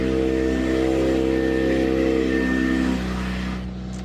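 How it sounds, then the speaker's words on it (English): An Audi RS5 engine idles loudly just after a cold start, a steady, deep, droning rumble close by that eases slightly toward the end. "So loud on cold startup"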